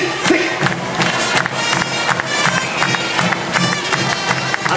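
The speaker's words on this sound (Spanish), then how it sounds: "Acompañamos con palmas al Tincus." A festival crowd claps along with Tinkus dancers at a Carnival-style street event, rhythmic hand claps over loud, busy crowd noise and cheering, with music and movement throughout.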